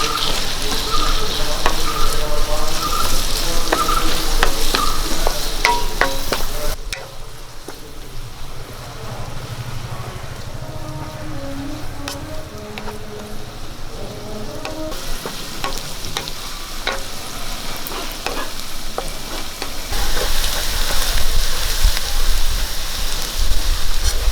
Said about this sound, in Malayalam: ഇനി ഇതിലേക്ക് രണ്ട് സവോള അരിഞ്ഞ ഇട്ട് കൊടുക്കാം ഒരു രണ്ട് പച്ചമുളക് നമുക്ക് ഒന്ന് വഴറ്റാം